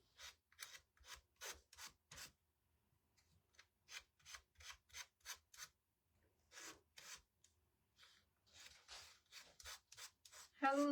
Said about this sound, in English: I'm going to sand the edges of my flower just a little bit more.